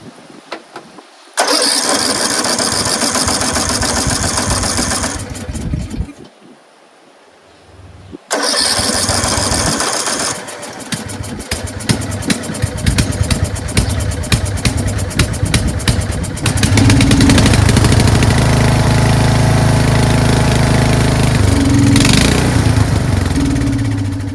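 A Craftsman 13.5 HP rear-engine riding mower with a freshly changed carburetor cranks, cuts out briefly, then fires and runs, settling into a loud, steady close-up roar that grows heavier toward the end.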